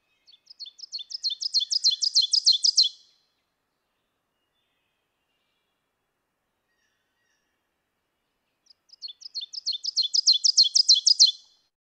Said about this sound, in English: we make these boxes over the actual song of the ovenbird